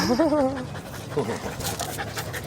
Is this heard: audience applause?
no